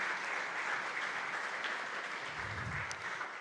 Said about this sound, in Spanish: vamos a darle un fuerte aplauso para los que vinieron por primera vez